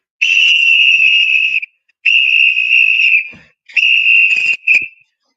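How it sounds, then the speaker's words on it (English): Three long shrill whistle blasts, each about a second or more, followed by a short final toot, loud and close. "Hell yeah, Daddy, I can blow my whistle."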